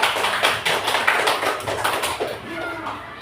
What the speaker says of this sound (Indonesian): tepuk tangan untuk Aska